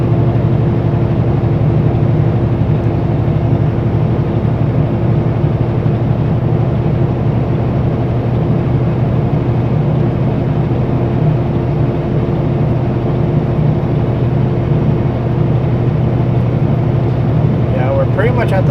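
A Super B truck's engine drones steadily as it climbs the snowy Coquihalla highway, a constant low hum heard from inside the cab with little change.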